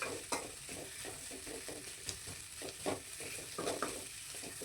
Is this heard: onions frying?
yes